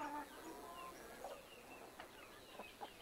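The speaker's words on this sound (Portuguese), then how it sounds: "Essa é a galinha caipira." A free-range caipira chicken on a rural farm clucks in short, soft calls spread across a few seconds, fairly faint against a quiet outdoor background.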